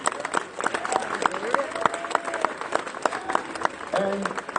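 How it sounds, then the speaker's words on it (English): An audience in a House of Assembly session gives a round of applause, with steady scattered clapping under voices talking throughout. "can we have a round of applause for them?"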